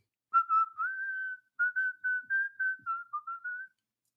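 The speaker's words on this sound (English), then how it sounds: "maybe people just want to listen to me whistle" A single person whistles a tune up close, with a steady run of clear, pure notes broken into short phrases, alone against silence.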